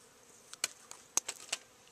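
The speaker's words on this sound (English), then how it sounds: "Look at that massive bee." Large female bee buzzing in short, faint bursts close by outdoors during net collecting, several brief passes over a quiet background.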